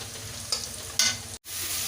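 Turmeric, garam masala and chili powder frying with onion in a pan for pumpkin curry, a soft steady sizzle with two brief stirring scrapes and a short cut near the end, close and fairly quiet.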